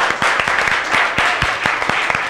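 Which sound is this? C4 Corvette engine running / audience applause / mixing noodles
audience applause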